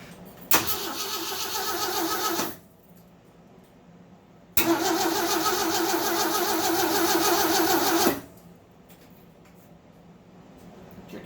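A rebuilt AMC 258 engine in a 1982 Jeep CJ7 cranks briefly and stops, then after a pause cranks again in a longer, steady, loud burst before cutting off.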